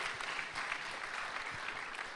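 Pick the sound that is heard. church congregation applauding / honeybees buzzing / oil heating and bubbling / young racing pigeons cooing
church congregation applauding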